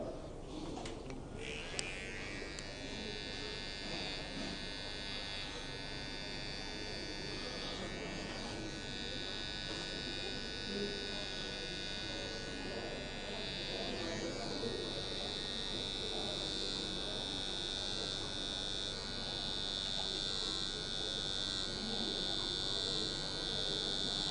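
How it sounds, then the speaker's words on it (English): A Wahl electric hair trimmer buzzing steadily and close during a haircut at a barber training event in Kenya, a constant whine that runs throughout with people talking over it. "either you use your blade again or you use the trimmer"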